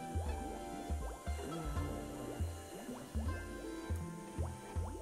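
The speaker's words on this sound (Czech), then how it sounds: "Takže sem teče voda." Water flowing and dripping as it is pumped upward in the Samorost 3 video game, a continuous bubbly trickle with rhythmic gurgling pulses, heard alone without talk.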